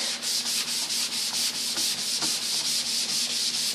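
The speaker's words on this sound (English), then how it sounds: "Right now we're sanding on Valspar's new HS35." Steady rhythmic sanding by hand across a coat of Valspar HS35 finish, close and loud, with regular back-and-forth rubbing strokes and no talking.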